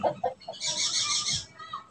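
Chickens and roosters cluck and squawk close by in a short burst, with a brief shrill call in the middle.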